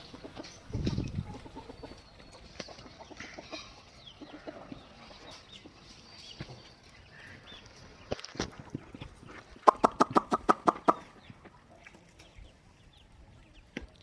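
A hen clucks softly among scattered pecking and rustling sounds while feeding outdoors, with a burst of sharp repeated clucks later on.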